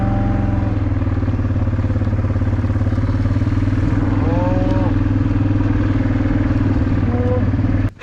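An old Yamaha motorcycle engine idles and putters steadily nearby throughout, with a couple of faint cow moos in the background and a brief thump at the end.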